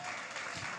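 A church congregation claps together in worship, a dense, even burst of many hands under the hall's reverb, brief and moderately loud, with no voices standing out.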